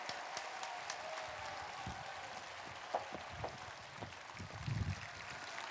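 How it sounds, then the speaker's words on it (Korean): Dense, steady wash of applause from a concert audience at an autumn music concert in Incheon, filling the hall evenly at moderate level, with a few low thumps near the end. "여러분 더 크게 박수 쳐주세요."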